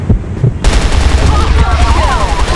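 Rapid automatic gunfire in the video game CrossFire, loud dense bursts of shots over game sound, starting abruptly after a brief quieter moment with talk mixed in.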